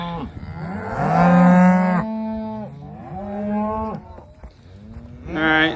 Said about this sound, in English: now we're getting all these out of here, these cows, and they're gonna go into the alley here